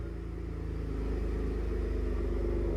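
A Gen3 Ford F-150 Raptor with an AWE catback exhaust idles and builds into a deep, steady low rumble that swells slightly, heard close and alone without talk.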